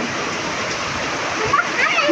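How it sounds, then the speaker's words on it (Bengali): Heavy rain pours onto a balcony in a dense, continuous rush of splashing water, loud and close, with faint voices underneath. "কি সুন্দর বৃষ্টি হচ্ছে"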